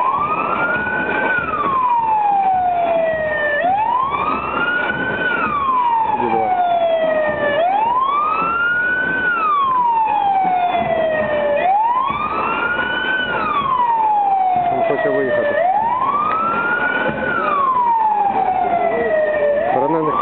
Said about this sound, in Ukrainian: Іде швидка допомога. Наближається.